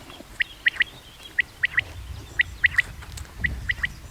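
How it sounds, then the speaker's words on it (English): A common quail calls in quick three-note bursts, about four phrases in a row, sharp and fairly close over a low outdoor rumble. "So that was a quail, common quail."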